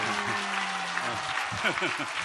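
Steady applause from a group fills the background while someone speaks over it.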